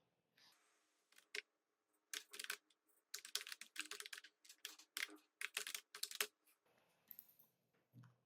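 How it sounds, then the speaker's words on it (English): Rapid bursts of typing on a computer keyboard, crisp close key clicks in uneven clusters separated by short pauses, quiet and alone. "I'll type it."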